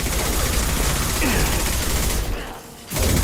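Rapid sustained gunfire in Mass Effect 2, a dense volley of shots for a couple of seconds, a brief lull, then firing resumes; a voice speaks faintly.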